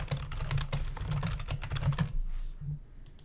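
Quick typing on a computer keyboard while entering a thread title in an online course discussion board, a dense run of close, soft key clicks that fades out near the end.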